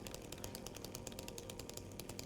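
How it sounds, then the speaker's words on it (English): Chainsaw in the Silent Hill 2 Remake, a rapid rattling buzz with a steady choppy pulse, fairly faint and continuous with no voices. "The chainsaw is noticeably stronger or not."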